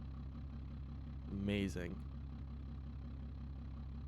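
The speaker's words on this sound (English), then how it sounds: "Thing sounds like a lawnmower." Idling car engine in the BeamNG Drive driving game, an inline-six with an exposed carburetor, giving a low, steady lawnmower-like drone throughout while someone speaks briefly over it.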